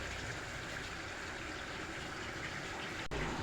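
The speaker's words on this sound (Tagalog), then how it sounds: "Lagyan na natin siya ng sabaw." Broth gushes steadily into a cooking pot, a continuous close splashing pour that runs evenly throughout and ends with a brief knock.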